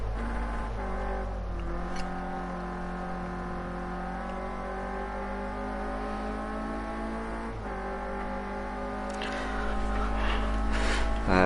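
Renault Clio race cars circle the Ruapuna circuit in a racing game, a steady droning engine note holding throughout and swelling louder near the end, with no voices.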